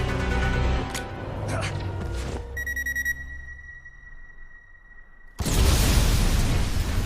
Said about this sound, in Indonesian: Mobil Matt meledak serta Anders yang masih ada di dalamnya.